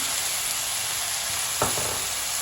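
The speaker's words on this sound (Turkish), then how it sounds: "hemen böyle 2 yemek kaşığı soya sosunu, soya sosunu ekliyorum" Peppers sizzling steadily in a hot pan as soy sauce goes in, a continuous bright hiss with a brief low splash and clatter partway through.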